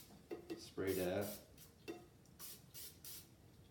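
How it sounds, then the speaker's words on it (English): A spray bottle mists a metal bowl meant for kneaded Pane Siciliano dough, with several short hissing bursts and a longer spray near the start, with faint kitchen clatter between them. "You need another bowl that you're going to transfer your kneaded dough into and just slightly spray that."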